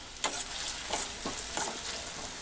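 Onions frying in a pan give a soft steady sizzle, broken by about four brushing stirring strokes, the first beginning with a sharp clink against the pan, with no talking.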